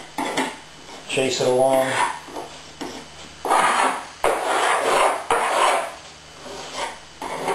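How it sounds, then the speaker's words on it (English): A putty knife scrapes and spreads epoxy fairing filler into gaps, making repeated gritty strokes of varying length, loud and close, while a voice speaks briefly between them. "take the putty knife, start working it into the gaps."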